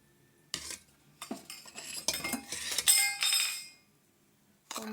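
Chopped onion, tomato and coriander are mixed with roasted flattened rice for masala cone chaat, producing a few bursts of spoon-on-bowl scraping and clinking with quiet gaps between.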